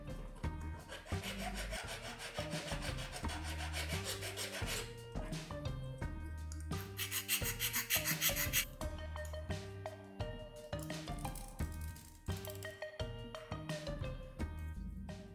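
3D-printed plastic parts for a magnet insertion tool are sanded by hand so they slide through their case, producing repeated rasping strokes in uneven rhythmic bursts, close and moderately loud, with no one speaking.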